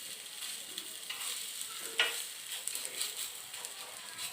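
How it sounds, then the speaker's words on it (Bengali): Fritters made from bottle gourd and potato peels fry crisp in a pan, giving a steady close sizzle with crackling spatter and one brief sharper pop, with no talk. "বড়াগুলো কি সুন্দর মুচমুচে ভাজা হয়ে যাবে"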